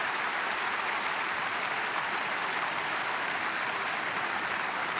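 A tennis crowd applauds Baghdatis in a steady, even wash of clapping that holds at the same level throughout, with no voices heard over it.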